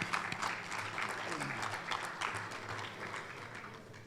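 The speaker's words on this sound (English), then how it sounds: "Please give them a round of applause." Banquet audience applauding a reception sponsor at a summer awards dinner, a brief moderate round of clapping from a room of people, steady and then tapering slightly.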